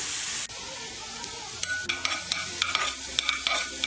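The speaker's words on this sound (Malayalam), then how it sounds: "ഫ്ലെയിം കൂട്ടി വെച്ചിട്ട് തന്നെയാണ് ഞാനിത് ഇളക്കി കൊടുത്തുകൊണ്ടിരിക്കുന്നത്" Chicken sizzling hard in a cast iron pan over a high flame while a spatula stirs it, the steady hiss broken by a sharp knock early on and then a run of quick scraping strokes.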